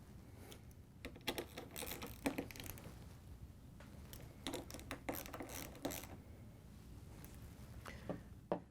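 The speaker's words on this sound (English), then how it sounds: "we can take the ratchet in the socket and tighten these all down" Ratchet and socket tightening the screws of a freezer door gasket on a Whirlpool, KitchenAid or Maytag freezer: quiet, irregular runs of small clicking ratchet ticks in short bursts, close and faint.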